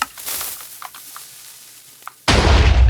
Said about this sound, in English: Now it went up high. So that's the mortar shot.